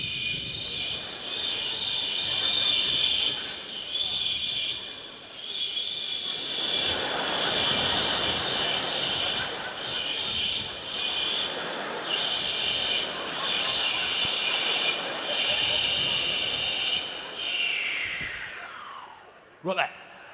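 A comedian on stage imitates a jumbo jet at the end of the runway readying for takeoff, a sustained breathy vocal roar with a whistling high tone that swells and finally sweeps down, with some speech mixed in.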